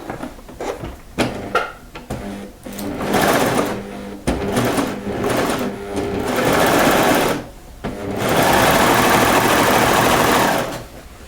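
Sewing machine stitching around a French terry sweater at the yoke and shoulders, running in several steady bursts with short pauses between, loud and close.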